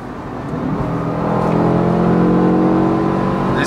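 Inside a BMW E60 M5 after a downshift to third, the engine's induction noise swells into a rising harmonic whir as it revs, loud and steady with no voices.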